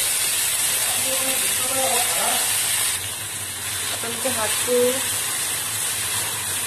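Dhekia fern greens hit a pan of hot mustard oil, giving a steady close sizzle and hiss with occasional stirring; someone speaks over the frying.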